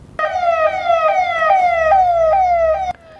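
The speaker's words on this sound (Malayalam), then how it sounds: "ആംബുലൻസ് ഇനി കടത്തനാടൻ പാതകളിലൂടെ സൈറൺ മുഴക്കി" An ambulance siren on roads in Kozhikode, Kerala, sounds a loud, steady wail with repeated stepped pitch drops for about three seconds, then cuts off abruptly over faint traffic rumble.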